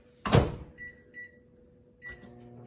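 A door thuds shut, then short electronic beeps from button presses over a low, steady appliance hum as a microwave oven starts.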